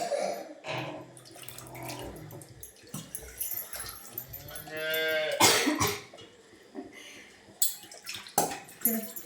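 A cow lets out a long, loud moo amid splashing water and clatter, with some nearby human voice sounds.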